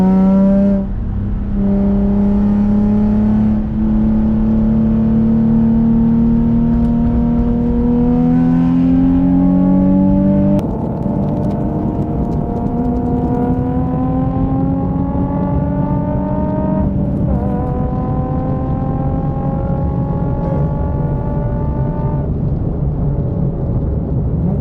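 Nissan 350Z engine droning at moderate revs during a calm drive, rising in pitch through gradual acceleration with a gear change partway, steady and close from inside the car.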